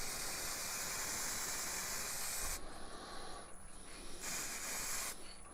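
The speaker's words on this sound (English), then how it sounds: "Just using the spray sanding sealer so the colours don't run." Aerosol sanding sealer hisses in a continuous steady spray onto a wooden Christmas tree turned on a lathe, with two brief pauses near the end, close and fairly quiet.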